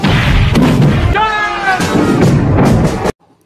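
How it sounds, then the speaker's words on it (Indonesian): A large barrel bomb explodes in a Rambo film scene, a loud, dense continuous roar of blast and rumble with thuds and a brief tonal whine in the middle, cutting off abruptly into near silence. "Di saat bersamaan, bom barel dijatuhkan tepat di lubang tersebut."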